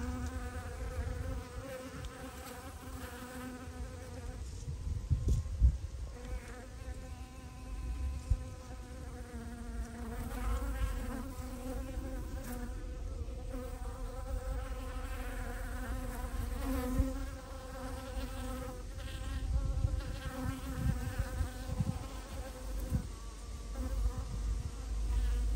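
Apis mellifera honeybees buzz steadily and close by as they work at getting a lid off, a dense continuous drone with no talking.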